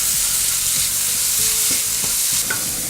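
Onion pieces sizzle loudly in a hot pan for crab curry, a dense crackling hiss broken by the scrape and clatter of stirring, close and continuous with no speech.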